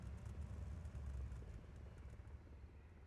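A helicopter in the Yeho video game: a faint, steady low rotor drone hanging in the distance, unbroken for a few seconds.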